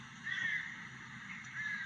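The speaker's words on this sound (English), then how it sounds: "Yes, you've seen it, those rooks. Great, horrible rooks." Rooks, a kind of crow, caw in a steady outdoor chorus by a lake, a thin layered calling that swells briefly and carries on without a break, with no talk over it.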